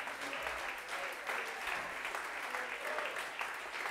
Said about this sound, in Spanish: denle un aplauso fuerte en esta hora.